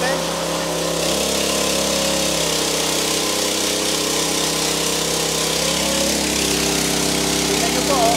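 A gasoline Briggs & Stratton engine drives a pelletizer machine in a Bulacan warehouse, running loud and steady with a constant droning hum throughout.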